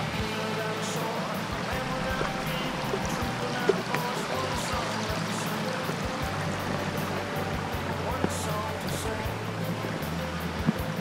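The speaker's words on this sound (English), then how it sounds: "Beautiful little stream here. So we got some water flowing, that's a good thing." A small creek on the Jones Run Falls hike in Shenandoah National Park flows close by, producing a continuous, even rushing and trickling of water.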